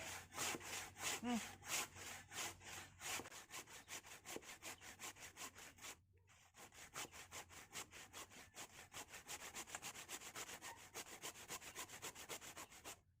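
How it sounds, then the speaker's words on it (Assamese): Steady back-and-forth sawing through a cut neem tree branch, close and loud, with rhythmic strokes continuing for most of the stretch, one brief pause midway before the strokes resume at the same pace. "এইডাল নিম গছ কাটি থোৱা আছিলে ফালি লওঁ দে আপোনালোকে চাই থাকিব এয়া মই এতিয়া কাটি লৈছোঁ"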